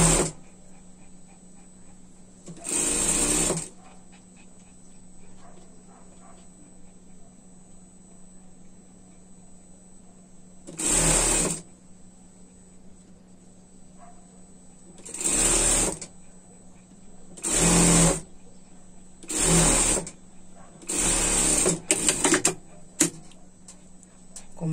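A sewing machine stitches a winter dress for a pet in several short bursts of rapid mechanical whirring, separated by quiet pauses with a faint background hum; a voice speaks softly between some bursts.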